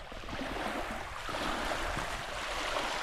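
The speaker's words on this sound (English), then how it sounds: "great sounds of the water." Water lapping and washing along a lakefront at Merrill Creek Reservoir in New Jersey, a steady, fairly loud broadband rush with no talking.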